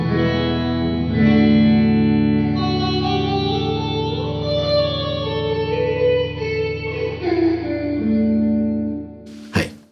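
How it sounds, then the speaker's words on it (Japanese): A guitar through a Strymon Cloudburst reverb pedal with the mix at full, so only the wet reverb is heard: sustained, shimmering chords washing smoothly for nearly ten seconds before a brief clatter at the end. "これミックスをフルにすると、今度はドライが消えて、リバーブオンリーになります。"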